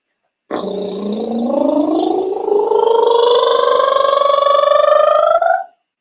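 A single sustained buzzing lip trill slides smoothly upward in pitch from low to high over about five seconds, loud and close, then stops.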